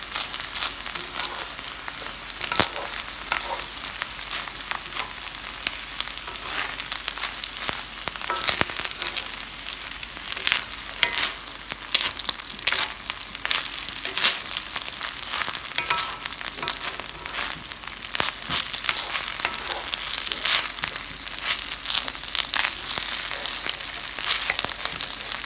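Rice fries in oil in a Le Creuset paella pan, a continuous close-up crackling sizzle with dense little pops and occasional stirring scrapes, with no talk over it.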